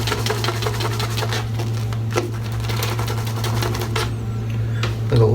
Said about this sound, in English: it's creating wads of lather